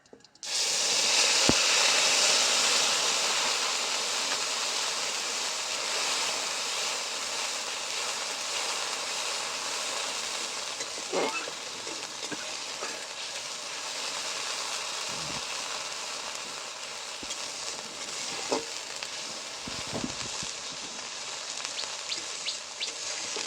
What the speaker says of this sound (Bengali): এবার তেলের ওপরে দিয়ে দেবো আমি কাঁচা লঙ্কা আদা বাটা